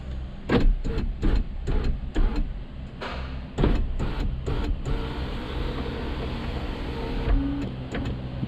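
A car power window runs in short bursts of motor whine with clicks and thumps, stopping and starting several times before a longer closing run; close, with no talk.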